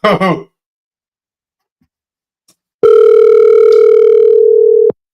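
A telephone dial tone hums loud and steady for about two seconds while a call is being placed, after a brief sigh or throat-clearing sound and a short silence.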